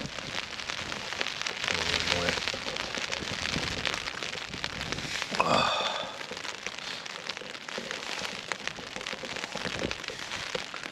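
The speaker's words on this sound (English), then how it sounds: "Well, that rain's steady, but it's not torrential at the minute." Steady rain patters on a tent while wild camping at Stickle Tarn in the Lake District, a dense continuous hiss with a brief louder rustle near the middle; no voices.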